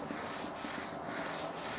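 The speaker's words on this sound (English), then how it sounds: "you just get the sugar and rub it straight down the bag" Sugar is rubbed by hand down a bag of competition ribs, making a soft, close, rhythmic scratching with about three or four even strokes and no voices.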